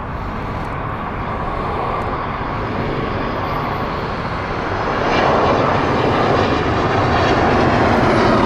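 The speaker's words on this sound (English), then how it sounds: "Another Airbus A319." An Airbus A319 airliner roars past at Heathrow, its loud jet engine noise steady at first and then growing louder and closer toward the end, with no one speaking.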